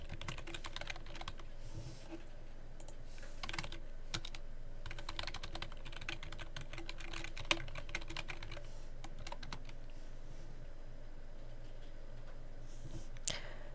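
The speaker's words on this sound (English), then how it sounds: "type your message into the bottom section and click Return to send" Someone types steadily on a computer keyboard, a close, continuous run of rapid key clicks with occasional heavier taps, and no one talks.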